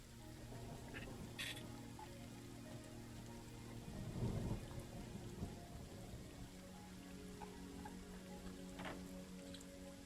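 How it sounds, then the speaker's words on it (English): Rain pours steadily throughout while a low roll of thunder swells near the middle, a sustained rumble beneath the hiss of falling rain, with a few faint higher crackles scattered across. "You feel a roll of thunder, not outside the window, but actually kind of from within."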